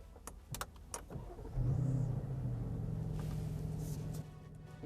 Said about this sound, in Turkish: İlk olarak motoru çalıştıralım bakalım homurtusu nasıl geliyor.